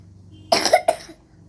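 Two short, sharp coughs close by, the second slightly weaker, from a young voice against a quiet background.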